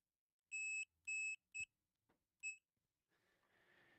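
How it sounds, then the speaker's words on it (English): Four short, high electronic beeps from a multimeter continuity test sound in quick succession, quiet and close, followed by a few faint clicks and a soft hiss at the end. "if I touch these together, it beeps"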